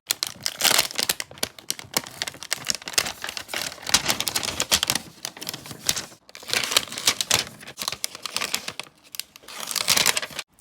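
Packaging of a new ROG Ally X handheld being unwrapped, continuous close crinkling, tearing and rustling of plastic and paper for the whole stretch with no talking.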